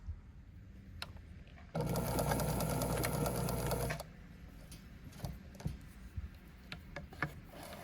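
An Elna SU sewing machine running a straight stitch in one loud, steady whirring burst of about two seconds, close by, with quieter handling clicks before and after.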